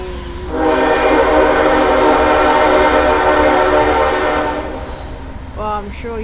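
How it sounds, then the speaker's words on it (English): A train rolls past nearby with a long, loud sustained horn blast lasting several seconds, then fades, followed by a few short bird chirps at the end. "Oh, he has a train."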